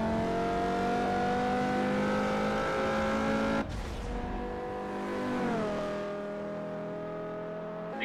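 A powerful car engine in Forza Motorsport 4 revs high and steady, then drops and climbs again through a gear change, loud and close with no talking.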